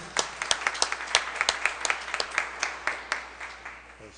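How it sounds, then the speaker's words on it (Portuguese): A modest round of applause at a formal municipal council meeting salutes the national flag, with a handful of people clapping in a fairly even rhythm, close and moderately loud, with no talk over it. "fazermos uma saudação com a salva de palmas ao Pavilhão Nacional"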